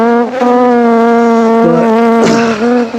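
A swarm of honeybees buzzes loudly right around a GoPro camera, a dense, steady droning hum with shifting pitch as individual bees dart close, no speech.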